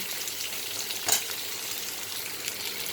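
Potatoes and onions sizzle in a pan, a soft, even frying hiss with one brief stirring knock partway through, heard alone without speech.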